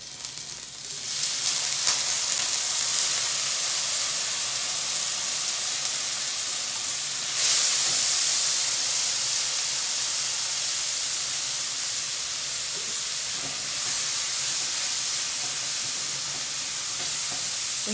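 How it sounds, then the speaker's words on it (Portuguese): Bacon fries in a little oil in a preheated pan, giving a steady loud sizzle and hiss with brief bursts of crackle and spatter, no voices over it. "com uma panela aquecida, eu vou colocar uma colherinha de óleo para a gente iniciar fritando o bacon"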